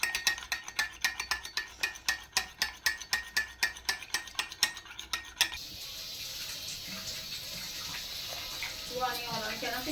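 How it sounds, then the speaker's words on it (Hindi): Spoon clinks steadily against a bowl for about five seconds while vanilla custard powder is stirred into cold milk, then gives way to a steady pouring, splashing wash of liquid. "हम ठंडे दूध में मिक्स कर देंगे इसे अच्छी तरह से"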